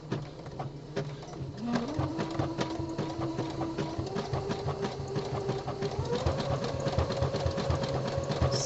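A home sewing machine stitches the body panel of a pair of boxer briefs, giving a steady rapid mechanical run of needle strikes at moderate, even loudness throughout.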